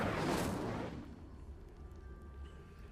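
Incendio fire spell cast in the Hogwarts Legacy video game: a loud whooshing burst of flame that swells and fades within a second, leaving a low rumbling tail with faint tones.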